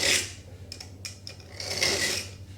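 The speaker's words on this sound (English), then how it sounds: "anytime you're scraping out the grout like this, it's a bit risky" Cracked grout being scraped out from between still-bonded tiles, giving short dry rasping strokes, close and moderately loud, with a few sharp scratches partway through.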